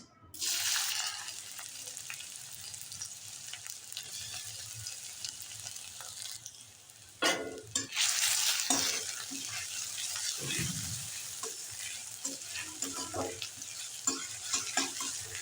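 Raw onions fry in a small amount of white oil in a hot pan, a continuous close sizzle broken by repeated stirring scrapes and clatter of a utensil against the pan.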